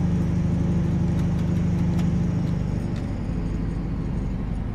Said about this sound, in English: you can sort of hear that ish scream of the VP185 engine